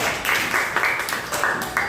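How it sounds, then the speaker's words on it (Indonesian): Group of listeners clapping for a presenting group in a classroom, a moderate patter of hands with a few louder bursts, fairly close and without talk. "tepuk tangan"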